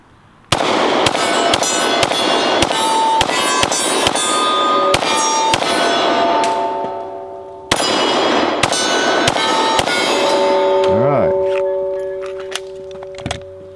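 A pistol fires 10mm standard ammunition outdoors: a loud, close string of sharp shots with ringing metallic echoes, a short pause, then another rapid volley, ending with a few tinny clinks.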